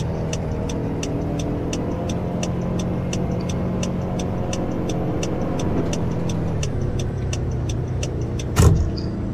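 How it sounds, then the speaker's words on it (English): A car's right turn signal ticks in a Roblox driving game, a steady evenly spaced clicking running throughout over a constant engine hum, with one brief louder knock near the end. "I have my right turn signal and I can hear it, but I can't see it."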